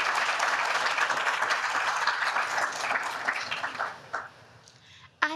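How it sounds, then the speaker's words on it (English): Conference audience applause, a full sustained roar of many clapping hands that carries on steadily, then tapers off into a few scattered claps and a quiet room near the end. "Can we get a round of applause for Wade and Keith and ProBonoNet for bringing us all together today?"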